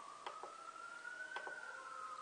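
A distant emergency siren wails through a neighborhood, its steady tone rising slightly as it passes, with faint clicks and ambient noise and no talking.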